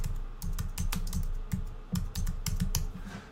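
Keys on a computer keyboard clatter in quick, uneven bursts of close, crisp taps, with no voices.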